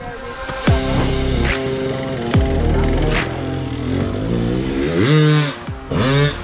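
A motorcycle engine revs in repeated bursts, climbing and falling in pitch several times, loud and close with steady engine clatter between the surges.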